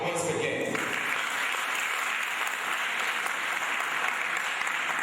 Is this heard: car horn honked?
no